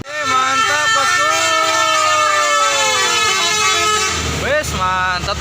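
Musical telolet horn of a tour bus climbing the Tepung Kanjut hill in Banjar, sounding a long, loud, melodic multi-tone sequence of rising and falling notes that continues throughout, with a shorter honk near the end.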